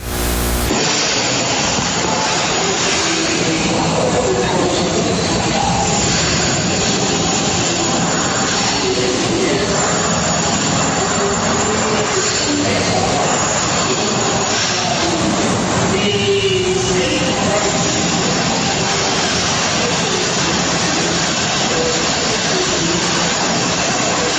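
Police drilling in a basement: a continuous, loud, broadband grinding roar running steadily for the whole stretch with no pauses, no talk over it.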